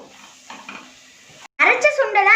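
A spoon scrapes and stirs a masala mixture of turmeric, chilli powder, curry masala and coriander in a pan with soft clinks, then a person starts talking.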